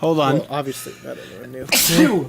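A single close, sharp sneeze bursts out right after someone speaks briefly into a podcast microphone.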